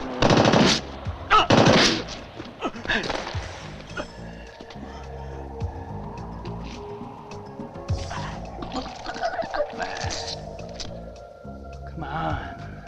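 Gunfire from zombies carrying guns in an old horror film, with loud bursts of shots early on followed by quieter rattling, effects and background sound.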